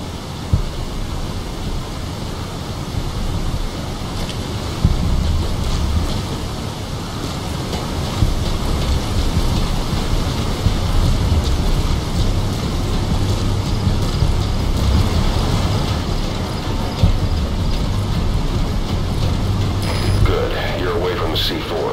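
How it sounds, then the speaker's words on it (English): Steady rain in Metal Gear Solid V at night, a dense, even hiss of downpour with low rumbling wind running throughout, and a low hum in the background. "Caution, rain approaching."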